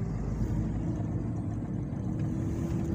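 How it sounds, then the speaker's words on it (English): A truck leaving the deep seaport on the Dangote Refinery road in Ibeju-Lekki gives off a steady, low engine rumble. It sounds fairly close and heavy, with constant road noise and no voices. "Truck is coming out from the deep seaport."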